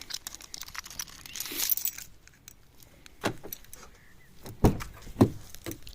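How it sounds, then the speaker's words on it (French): Unlocking and opening an MG4 Standard electric car while it charges: a faint jangle and rustle early on, then two sharp, close clicks and thuds of the door mechanism near the end. "On va ouvrir la voiture."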